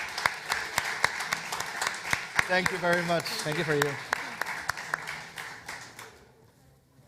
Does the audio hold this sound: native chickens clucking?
no